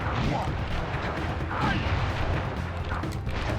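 Booming chop attack in the Sly Cooper video game, heavy, dull impact booms and crashing hits in quick succession, dense and continuous at a steady loudness.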